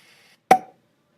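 A single cork pop effect from a sound library for stop-motion animation: one sharp, close percussive burst with a brief ringing tail, alone in silence.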